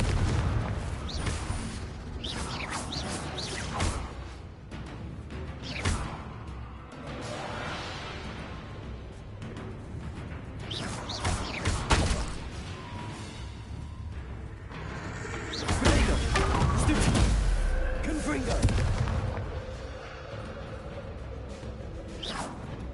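Explosive spell blasts in Hogwarts Legacy, repeated bursts and booms with whooshing swishes spread across a busy game soundscape, several heavier impacts standing out loudly.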